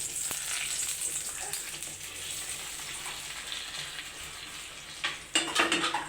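A tempering for tamarind rasam sizzles in hot oil, a steady crackling fry that swells into louder bursts of spattering and stirring near the end.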